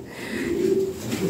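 Imported-bloodline pigeons give a loud, close, sustained low coo that swells and holds steady for about a second.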